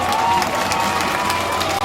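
Crowd at an 11 April commemoration in Côte d'Ivoire applauding and cheering, a dense, steady wash of clapping with scattered shouts throughout, fairly loud and continuous.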